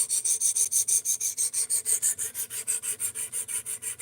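A knife is sharpened on a Work Sharp Precision Adjust Professional system, with rhythmic rasping strokes, about five per second, repeating steadily and close up with no voices.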